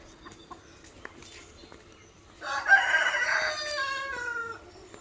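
A rooster crows once on a village farmstead during rice threshing season, the loud drawn-out call rising and holding for about two seconds after a quiet stretch of faint background sounds.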